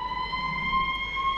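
A police car siren from the video game This Is the Police 2 sounds as a steady, piercing high electronic tone, alone and unwavering over a faint low background.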